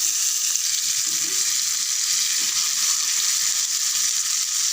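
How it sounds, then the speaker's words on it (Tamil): Pieces of sankara fish fry on a dosa griddle, giving a continuous, even sizzle close by with no talking. "மீன் வறுக்கிற தோசைக்கல் வச்சுருக்கேன். கொஞ்சம் கொஞ்சமாக மீன் போட்டு எடுத்துக்கலாம்"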